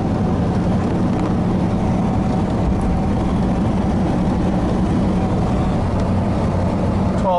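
1986 Chevy K-10 truck cruising in fourth gear at about 1200 RPM, a constant loud low engine and road drone heard from inside the cab, steady throughout.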